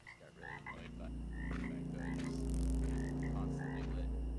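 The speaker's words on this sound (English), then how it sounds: "Got the frog over there. What the frog doing?" A frog in the horror game Demonologist croaks in repeated short, throaty calls over a low ambient hum, with faint speech in the background.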